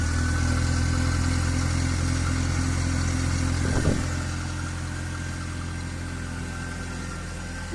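The petrol engine of a Komatsu FG15 forklift runs at a steady idle, a constant loud drone with a brief knock near the middle and a slightly quieter hum afterward, no speech.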